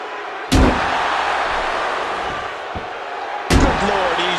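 Two heavy slamming impacts, about three seconds apart, as a wrestler is struck with steel ring steps in WWE 2K15, each a loud broadband crash over steady arena crowd noise.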